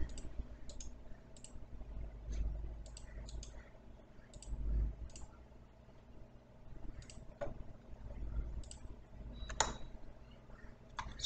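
Light computer mouse clicks in OriginPro statistics software tick out as scattered, faint, crisp taps at irregular intervals, alone against a low hum of room and fan noise.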